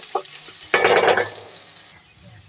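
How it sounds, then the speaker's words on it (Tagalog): Garlic and onion sautéing in a pan for Bicol Express, a brief burst of loud sizzling and stirring after a small clink, then a quieter hiss as it fades. "Medyo pupula-pula natin ang bawang sibuyas."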